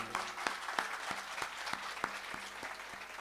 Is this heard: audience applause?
yes